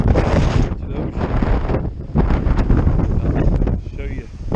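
Strong gusty wind in the cloudy aftermath of tropical storm Elsa near the ocean, roaring and buffeting the microphone in loud surges with brief lulls.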